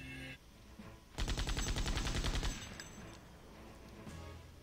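Gunfire in the video game Septerra Core: a rapid, loud burst of repeated shots lasting about a second and a half over a steady game soundtrack, with no talking.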